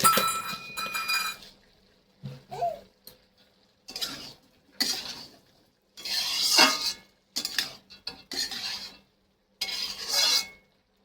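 A metal lid is set over a cooking pot on the stove, with several separate clinks and scrapes of cookware coming in short, close bursts between quiet gaps.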